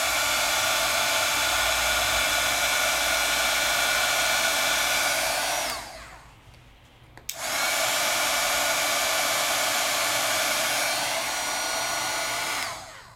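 A heat tool blows a steady, loud whooshing roar while melting polished embossing powder, cutting out briefly near the middle before running again for several more seconds.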